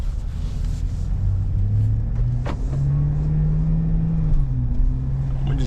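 A BMW X5M drives slowly through snow on a cold engine, giving a steady low rumble and drone inside the cabin that shifts pitch gently as it moves, with no talking.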